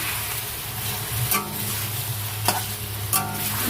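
Chicken sizzles and fries steadily in a pan with ginger, garlic and green chili paste, with a few sharp stirring scrapes breaking through the constant close crackle.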